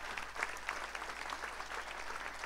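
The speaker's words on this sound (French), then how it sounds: "je vous propose d'applaudir de nouveau très fort nos intervenants" Conference audience applauds the speakers in a continuous, moderately distant wash of clapping, fairly quiet overall with a low steady hum underneath and individual claps flickering through the texture.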